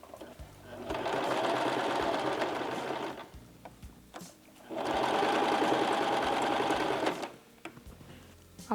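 A sewing machine stitches a gathered yoke onto fabric, running in two steady bursts of about two and a half seconds each, with quieter handling pauses between them.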